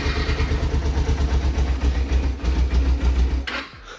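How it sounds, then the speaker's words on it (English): A cold Kawasaki Ninja 250 runs on its stock exhaust, a loud, close, fast-pulsing putter with a steady rhythm that cuts off abruptly near the end. "we're going to have a cold start and have a listen to this exhaust before I put the new one on"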